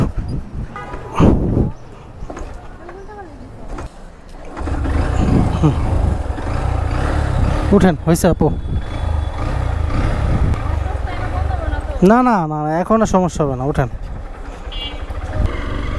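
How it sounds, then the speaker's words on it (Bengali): A motorbike engine finally catches after trouble starting, settling into a steady low rumble that runs under nearby conversation for most of the stretch. "দেখেন বাইকটাও ঝামেলা করতেছিল অবশেষে স্টার্ট নিল"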